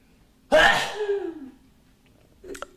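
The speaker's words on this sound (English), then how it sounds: "here's the third sneeze" A single loud sneeze close by, followed by a brief trailing exhale and a faint vocal sound a moment later.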